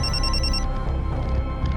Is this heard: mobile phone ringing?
yes